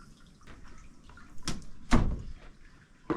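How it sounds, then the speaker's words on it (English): Water pours into a pufferfish aquarium being topped up, heard as bursts of splashing and gurgling with two stronger surges near the middle and one at the end, set over a faint steady background. "just gonna go ahead and fill this up with some more water."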